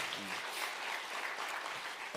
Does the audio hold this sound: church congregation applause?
yes